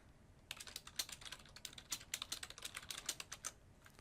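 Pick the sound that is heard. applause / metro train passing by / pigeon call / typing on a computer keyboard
typing on a computer keyboard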